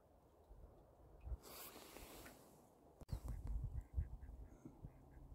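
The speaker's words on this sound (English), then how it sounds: "And some ducklings." Ducklings quack faintly during a snowy morning walk in a blizzard, with soft, scattered calls over low background noise and a few louder rustles and bumps nearby.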